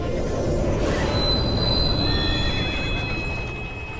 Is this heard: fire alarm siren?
no